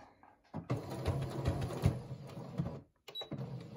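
A sewing machine back stitches across a fabric mask in a steady whirring run of about two seconds, pauses briefly, then starts again, close and moderately quiet with no voices.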